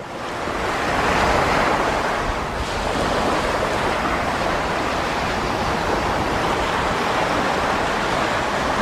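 Steady roar of tropical beach surf, waves washing continuously onshore with a broad hiss and a slight swell near the start, loud and close with no voices.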